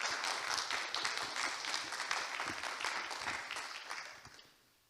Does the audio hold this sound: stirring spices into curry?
no